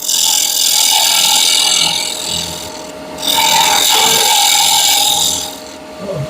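A wooden piece on a lathe is parted off with a loud, rasping cut. The scraping comes in two long sustained passes with a short break between them, close and harsh.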